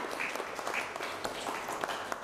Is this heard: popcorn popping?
no